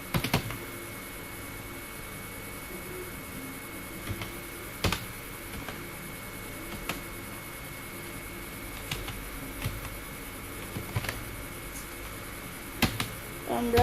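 Scattered keystrokes on a computer keyboard while an address is typed into an MS Word cash memo, appearing as sparse, sharp clicks in irregular bursts over a low steady hum.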